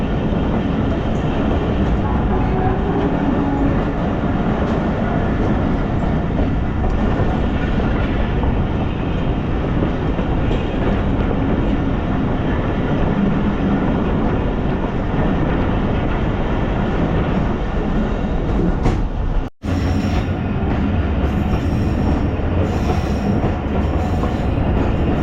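Train running on rails on the Quetta to Chaman line in Balochistan, a steady loud rumble and rattle of carriages sustained throughout, with a brief dropout near the end.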